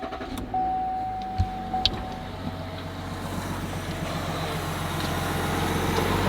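A 2021 Duramax diesel truck starts after a fuel filter change. An electric whine and a couple of clicks come first, then a low engine rumble that builds and settles into a steady idle, heard close.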